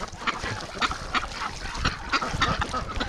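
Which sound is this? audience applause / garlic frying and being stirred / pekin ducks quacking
pekin ducks quacking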